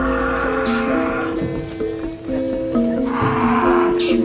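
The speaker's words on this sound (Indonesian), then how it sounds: "Halo sapi." Cattle in a village yard near a tobacco warehouse give low, drawn-out lowing calls amid rustling outdoor ambience, with a person speaking briefly.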